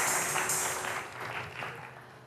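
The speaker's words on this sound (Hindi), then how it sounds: "जोरदार तालियां छोटू के लिए।" A TV studio audience at the finale of a Pakistani singing contest gives fairly faint applause for a young contestant, a brief patter of clapping that fades over about two seconds.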